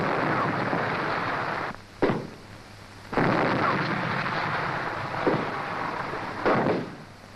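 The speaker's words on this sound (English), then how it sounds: "The tanks neutralize the enemy anti-tank and machine guns." Tank guns firing at enemy anti-tank and machine-gun positions during a troop tactics exercise: four heavy blasts spaced over several seconds, each a sharp crack over a constant loud rumble of engines and battle noise.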